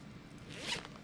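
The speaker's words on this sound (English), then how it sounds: "and now the zipper's stuck" A zipper is tugged along a small designer mini bag, one quiet, close, brief rasping pull that swells and fades within about a second.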